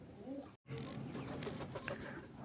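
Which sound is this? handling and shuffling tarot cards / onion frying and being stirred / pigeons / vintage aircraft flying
pigeons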